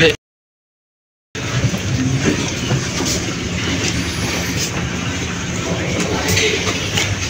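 Inside a crowded KA Serayu economy-class train carriage, a steady rumbling interior ambience runs with faint clicks and low background murmur after a brief silent gap at the start.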